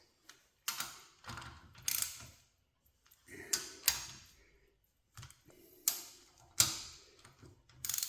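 Bolts on a John Deere 4020 hydraulic pump are tightened with a ratchet wrench, in short bursts of quick metallic clicking separated by pauses, close and fairly quiet.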